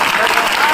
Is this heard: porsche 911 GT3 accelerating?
no